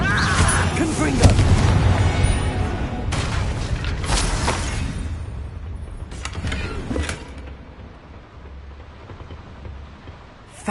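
A blasting-curse spell explodes in a fantasy wizard action game, giving a loud burst followed by rumbling and crackling debris that gradually die away, with a voice heard early on.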